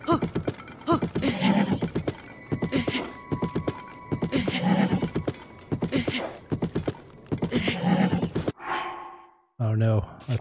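In the Zelda: Tears of the Kingdom video game, a horse gives repeated loud whinnies and snorts while being tamed, with hoof clops in between. It ends in a sharp sound effect.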